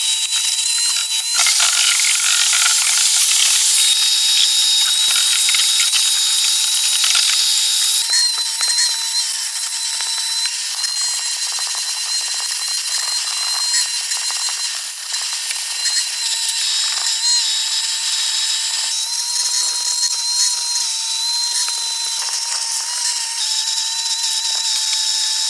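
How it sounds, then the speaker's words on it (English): A vacuum cleaner runs steadily inside a Honda car's interior, giving a loud, continuous high whine with small shifts in pitch as the nozzle moves around, and no one talks over it. "I got the vacuum hooked up"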